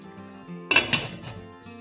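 A metal lid set onto a pan of cooking mussels in saffron and garlic cream sauce: a short clattering clink, close by, over a steady low hum.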